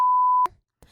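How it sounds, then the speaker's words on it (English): A steady censor bleep tone holds for almost half a second to mask a spoken word, then cuts off; faint room sound and a brief murmur follow. "Tell me right now, and I'll beep it out."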